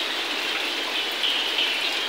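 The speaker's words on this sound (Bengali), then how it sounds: "এই যে আকাশ থেকে বৃষ্টি পড়তেছে, আবার দেওয়া ডাকও হচ্ছে।" Heavy rain falling outdoors during a storm, a steady broadband hiss of drops that stays even and close throughout, with no talking.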